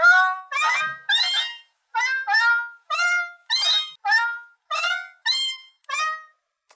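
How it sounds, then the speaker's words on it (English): Otamatone Neo electronic instrument playing its cat voice, a series of about ten distinct synthetic meows in an uneven rhythm, clear and close with short gaps, no other sounds. "That's a messed up sounding cat."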